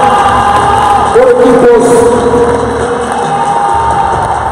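Crowd at a South American team awards ceremony cheering and applauding for team Paraguay, loud shouts and whoops over clapping, with a voice speaking over the noise.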